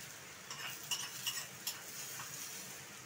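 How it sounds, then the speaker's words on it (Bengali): A spiced tempering poured into boiled arhar dal with salt, sugar and green chilli, giving a soft, faint sizzle with a few brief clinks of utensils and no talk. "আমার এটা ফোড়নটা আমি এই অরড় ডালে ঢেলে দেবো"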